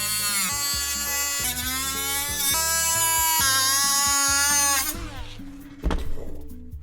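A Dremel rotary tool cuts into a PC case with a loud, high-pitched buzzing whine that wavers in pitch, stopping abruptly near the end and followed by a brief clatter.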